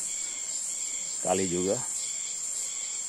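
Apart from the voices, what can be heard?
crickets chirping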